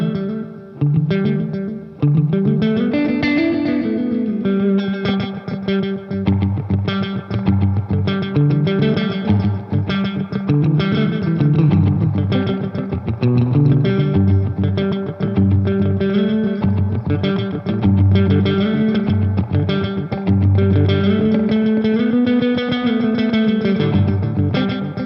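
Roland Space Echo tape echo effect with reverb on a sustained, distorted instrumental passage, repeating echoes smearing the notes into a dense, continuous wash that stays loud and steady throughout with no talking.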